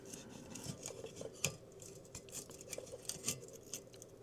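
Screws are fitted into a furnace heat shield with faint, close metallic clicks and light scraping that patter irregularly over a low hum.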